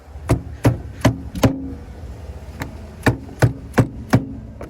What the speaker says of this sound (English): Get yourself a nice hammer and just tap them in gently.